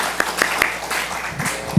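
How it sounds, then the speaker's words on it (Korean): A church congregation at a Korean Sunday worship service gives a brief round of applause after a hymn: a few separate claps, then a short, soft patter that quickly dies away. "감사의 박수 하겠습니다."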